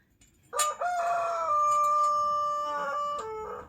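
Roosters at a rural plot where a plastic greenhouse is being built crow loudly and nearby, one long drawn-out call followed by a second overlapping crow, with no talk.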